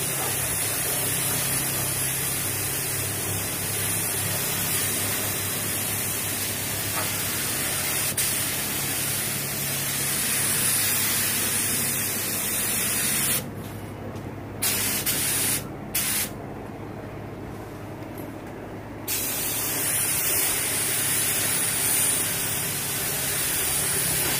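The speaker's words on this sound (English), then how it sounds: "Abby, sealer coat number 2." A spray gun lays a second sealer coat onto a Pontiac GTO front bumper, a loud continuous hiss that briefly stops and restarts several times near the end before resuming steadily.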